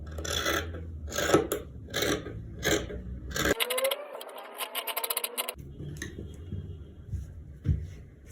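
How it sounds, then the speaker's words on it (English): Scissors cut through fabric for a child's bubu gown: a short run of crisp, scratchy snipping and rasping lasting about two seconds, set between duller handling and rustling sounds. "now I'm going to go ahead to cut this out"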